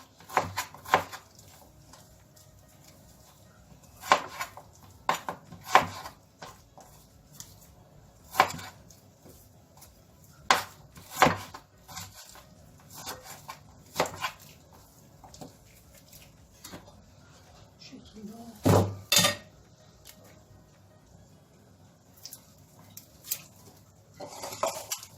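Sharp, irregular knife strikes against a board as liver is chopped for kebab, with sparse clinks of utensils in a quiet room.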